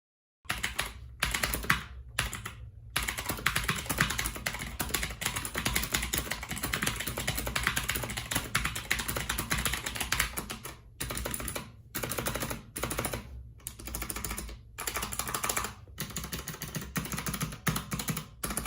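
Fast, steady typing on a Chonchow TKL mechanical RGB gaming keyboard, dense clacking keystrokes close up, broken by a few short pauses, with no talking.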